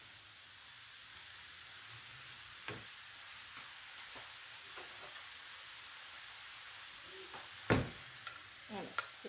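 Vegetables and minced meat cook in a pan with soy sauce and spices, giving a steady low sizzle and hiss broken by a few sharp stirring scrapes and clicks near the end.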